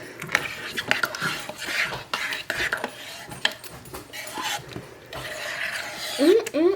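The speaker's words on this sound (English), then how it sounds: "I'm just gonna give it a stir." A big spoon stirs food in a crock pot with melted butter on top, scraping and clinking against the pot in uneven strokes, close and fairly loud, with some brief muffled vocal sounds between strokes.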